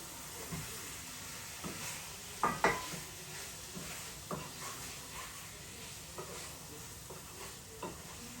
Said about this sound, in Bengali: এখন দিয়ে দিলাম পেঁয়াজ কুচি আর কিছু রসুন কুচি, 2-3 কোয়ার মতো।